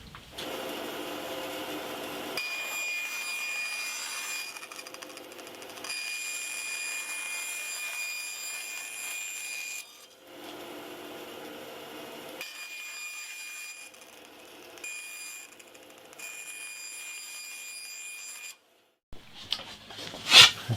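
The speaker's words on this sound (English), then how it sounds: "let me just do that on the bandsaw" A bandsaw trims the sides of a glued-up wooden guitar body, cutting about 8mm off each side in long steady passes with brief pauses between cuts, ending in a few sharp knocks.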